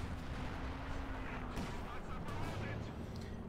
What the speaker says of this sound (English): Sturmpanzer taking a hit from the anti-tank gun